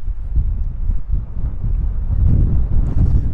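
Steady, heavy wind buffeting a microphone in the mountains of Tenerife, a constant low rumble with gusty surges that swell louder toward the end, no voices.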